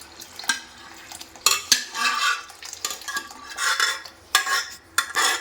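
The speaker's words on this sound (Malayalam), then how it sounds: "ഇനി ഇത് നന്നായിട്ട് അങ്ങോട്ട് ഇളക്കി" Navara rice and bottle gourd payasam with jaggery syrup and milk being stirred in a pot, irregular scraping and clinking spoon strokes with soft bubbling between them.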